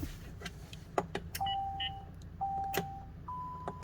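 A radar detector mounted in a VW ID.4 gives short electronic beeps and tones as it is switched on and off, several separate steady tones among faint clicks of button presses in a quiet cabin.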